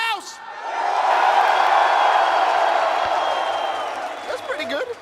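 A large esports arena crowd at a BLAST Premier Counter-Strike event in Lisbon roars and cheers for NAVI, a sustained swell of voices that builds quickly and holds before fading.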